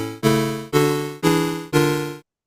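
A short chord progression played for a music cognition study: a brief lead-in tone, then four evenly spaced sustained chords, each about half a second long, clear and steady with no talk.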